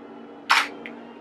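A single camera shutter fires close to the mic while photographing a figure in a hotel room: one crisp mechanical clack followed by a faint, short second click, in an otherwise quiet space.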